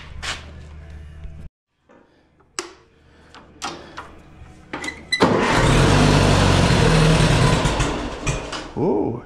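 A tractor engine cranks and sputters in short bursts, then catches into a loud, rough run for several seconds before fading.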